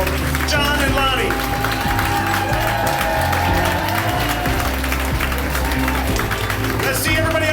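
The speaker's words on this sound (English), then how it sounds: "Come on, big round of applause." Wedding guests applaud a newly married couple at the ceremony, a dense, loud, continuous clapping from a crowd with some cheering and voices mixed in.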